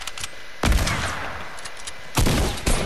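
Two loud, booming blasts of a shotgun fire in Fortnite, spaced about a second and a half apart, each with a sharp attack and a noisy tail, over continuous game noise.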